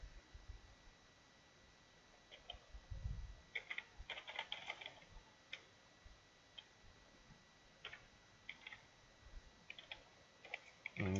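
Typing code on a computer keyboard: faint, sparse clusters of light key clicks and taps over a steady background hiss, with no talking.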